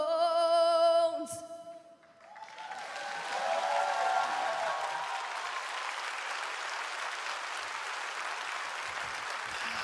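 After a sung musical phrase fades at a talent show semifinal with a gospel choir, a large audience breaks into sustained applause and cheering, steady and broad, filling the hall for several seconds.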